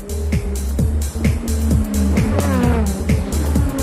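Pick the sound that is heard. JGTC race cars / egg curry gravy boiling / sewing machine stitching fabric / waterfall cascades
JGTC race cars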